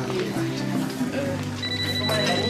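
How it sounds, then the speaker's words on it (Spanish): A cell phone rings indoors during a TV drama scene, its thin, steady electronic tone sitting under voices and room noise. "hay un celular sonando"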